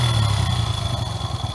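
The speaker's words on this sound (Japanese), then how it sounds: "キックスタート。" A motorcycle engine catches after a kick start and settles into a steady, close idle with a low, continuous rumble and a faint mechanical clatter, on a hot summer day out touring.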